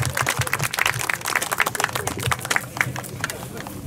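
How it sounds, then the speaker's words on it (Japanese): An audience gives a sustained round of dense clapping for three trial motorcycle riders at the 2019 All Japan Trial Championship round 2 awards ceremony in Kyushu, with crowd murmur mixed in. "では今一度どうぞ3選手へ盛大な拍手をお送りください。"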